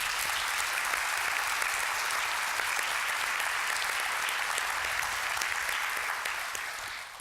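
A town hall audience applauds loudly and steadily, a dense sustained clapping that carries on throughout and only starts to fade at the very end.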